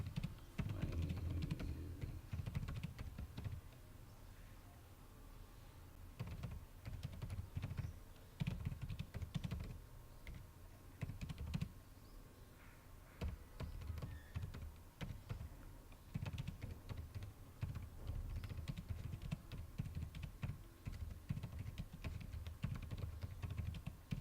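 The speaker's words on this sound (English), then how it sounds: "Suppose I just type" Steady keyboard typing on a computer in a word processor, a quick run of close, clicky keystrokes with brief pauses, no voices.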